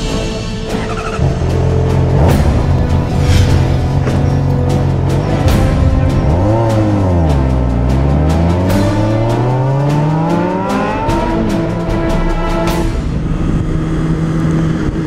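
A Honda CBR motorcycle rides slowly through a racetrack pit lane, its engine droning loud and close throughout, the pitch dipping and climbing again in smooth sweeps as the throttle changes.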